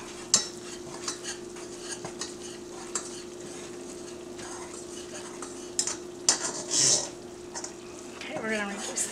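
Flour and fat roux cooking in a pan for lobster cutlets, whisked steadily with scraping, clinking strokes over a soft continuous sizzle, with a few louder metallic knocks against the pan.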